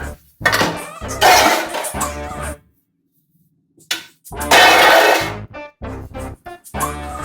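Pots, pans and dishes clatter loudly in a home kitchen, in two dense bursts of banging and scraping metal separated by a short silent pause.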